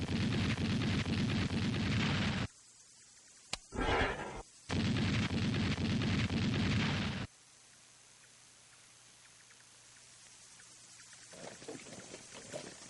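57mm anti-aircraft gun firing in the Vietnam War, two long, loud roaring bursts separated by a sharp crack and a short blast, then near silence.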